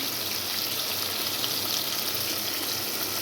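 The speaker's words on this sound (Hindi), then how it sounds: "बहुत ही अच्छे से जो है टमाटर भी फ्राई हो रहे हैं" Tomatoes frying in a pan give a dense, even hiss of sizzling oil that holds steady for the whole stretch, close and moderately loud, with no clear stirring or other sounds standing out.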